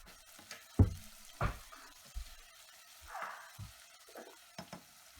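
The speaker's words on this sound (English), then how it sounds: "I added the sausage now. So I will let it fry for about 2 to 3 minutes." Sausage fries in oil with onion, garlic and ginger as a faint, low sizzle, punctuated by scattered soft knocks and clinks of a utensil against the pan.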